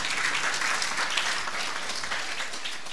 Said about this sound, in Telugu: చప్పట్లు కొడతాం గట్టిగా